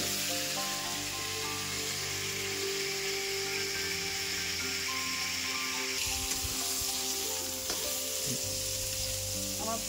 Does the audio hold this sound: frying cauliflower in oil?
yes